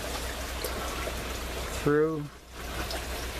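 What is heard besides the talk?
water trickling down through an aquaponic tower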